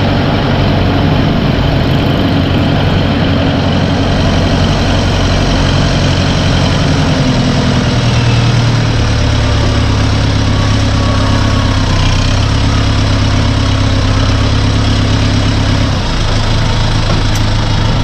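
A farm tractor engine runs steadily throughout a ride, a loud, continuous low rumble with a deeper drone settling in partway through, no talk heard over it.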